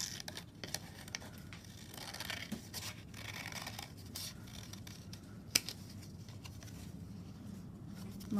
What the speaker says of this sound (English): Now what you can do with this is you can cut it into a shape.